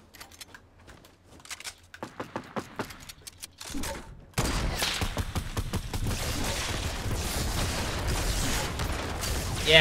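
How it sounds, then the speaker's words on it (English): Gunfire in a Fortnite match, sharp shots and crackling bursts in quick succession, growing denser and louder midway and continuing as a busy barrage to the end. "someone's just shooting at me"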